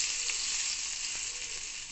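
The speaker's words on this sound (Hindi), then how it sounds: "अब मैं इसको तड़का लगा दूंगी।" Steady, loud crackling sizzle of hot oil tempering poured over green leafy saag in a serving dish, continuous and close, with a few brighter pops and spits throughout.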